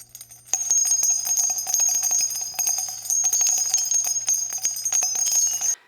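A bright notification bell chime rings repeatedly in quick succession, clear and loud with a sustained metallic shimmer, alone without any voices.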